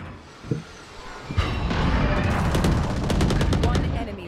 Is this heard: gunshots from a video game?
yes